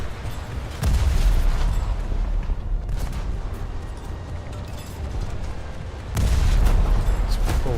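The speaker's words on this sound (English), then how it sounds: "S40 just detonated" An S40 boat detonating in a French coastal naval video game, two heavy booming blasts with deep low rumble, one early and one near the end, and crackling battle noise between them.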